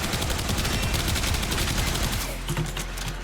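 Rapid volleys from the Zhuge Prime rifle bow in Warframe, fired against a heavy enemy, come as a loud, dense stream of repeated shots that carries through most of the stretch before easing off.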